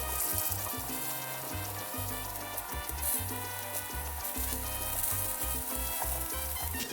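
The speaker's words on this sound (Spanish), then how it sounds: "Agregamos las zanahorias en rodajas, un poquito de sal y pimienta y las cocinaremos por 3 minutos." Sliced carrots sizzling in melted butter in a pan, a steady crackling fry that continues without pause, with faint low kitchen rumble beneath and no talking.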